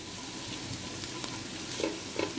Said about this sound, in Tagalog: Ito, nagsusop na tayo ng ating garlic.